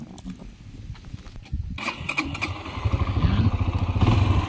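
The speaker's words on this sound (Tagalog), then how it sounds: "Buti na lang ang motor natin ay pang bundok" A small XTC 125 mountain motorcycle engine hums and rises in pitch as it rides along, with rattling and clatter over rough ground, fairly close.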